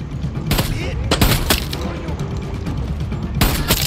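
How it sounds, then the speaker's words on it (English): Rapid bursts of shotgun fire and explosive booms in the Far Cry 6 video game on PS5, loud and dense with overlapping gunfire and a steady rumble of game noise throughout. "Time to test the shotgun out"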